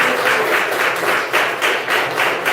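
A church congregation claps together in a steady rhythmic beat, close and fairly loud, during a Brazilian family worship service.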